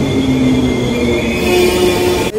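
A train rumbles steadily along the rails, a loud continuous drone with a faint high whine, heard from inside the carriage on a new airport rail line in Western Australia.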